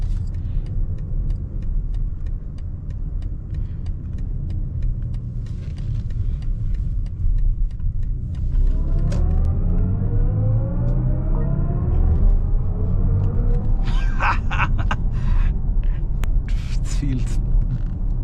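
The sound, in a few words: 2026 BMW i7 sport mode driving sound by Hans Zimmer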